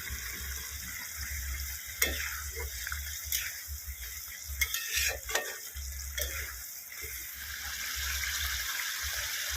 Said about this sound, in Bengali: ঝোলটা ফুটে উঠেছে। এবার আমি মাছগুলোকে দিয়ে দিচ্ছি।